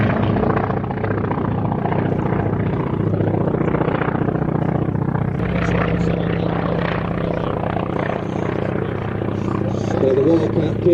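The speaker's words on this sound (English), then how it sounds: "The Wildcat peeling off from the back of the formation to put on his solo performance" A Wildcat helicopter flies a solo display at an aviation show, its loud, continuous rotor and engine roar holding steady throughout with a voice speaking over it.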